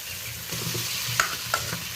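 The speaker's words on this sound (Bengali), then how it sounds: "ভেজে রাখা ঝিঙে আলুটা দিয়ে দিলাম।" Steady close sizzling as fried ridge gourd and potato pieces go into a hot pan of cooked-down spices, with a couple of brief metallic clinks from stirring over the continuous hiss.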